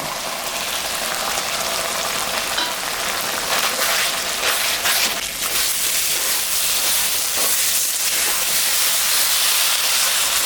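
Steady, loud sizzling and hissing of tomatoes frying in hot oil, a continuous crackling spray of sound with no talking.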